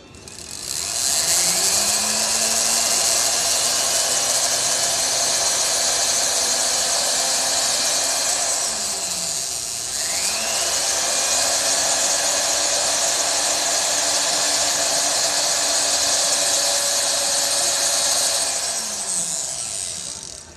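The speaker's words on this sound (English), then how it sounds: "I'm going to guesstimate where I'm going to drill." A small power drill whines steadily at high pitch, its motor speed dipping and rising as it bites into silver, drilling small divots for the eyes of a pendant.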